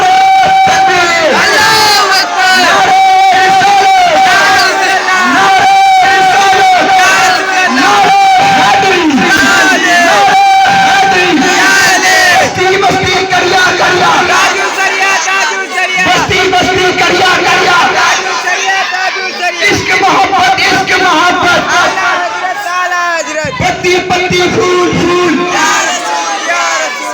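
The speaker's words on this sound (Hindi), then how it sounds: "उठाइए दोनों हाथ और बोलिए मेरे साथ, नारे तकबीर, नारे तकबीर" A large crowd at an Islamic religious sermon loudly chants the Naara-e-Takbeer slogan, massed voices roaring in repeated surges that fill the space, loud and continuous.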